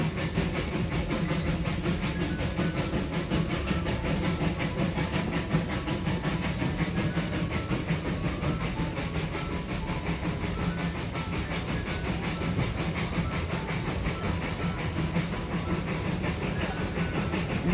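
The Puffing Billy steam train runs along its tracks in Australia, heard from on board as a steady, continuous rumble with rhythmic rail clatter and a constant hiss. Someone speaks quietly over it.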